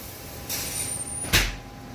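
An oven door thunks shut with a single sharp clunk as a pan goes into a hot oven, after a soft swishing stretch, set against a quiet kitchen hum.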